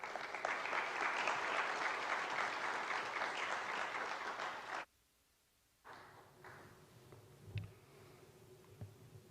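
A congregation at a church alumni worship gathering applauds to welcome a pastor to the stage: loud, dense clapping that stops abruptly, followed by quiet room sound and faint movement.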